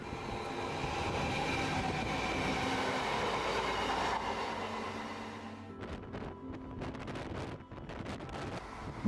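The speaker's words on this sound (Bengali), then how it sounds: "দমদম ক্রস করার কিছুক্ষণ পরেই ট্রেনের গতি বেড়ে গেল বেশ কিছুটা" The Hazarduari Express runs on rails with a steady rumbling roar of wheels and carriages, heard from on board as it picks up speed, then breaks into rhythmic clattering over rail joints.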